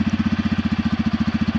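A Bajaj Rouser N250 motorcycle engine idles nearby with a steady, fast, even pulsing throb that holds constant throughout, with no voices over it.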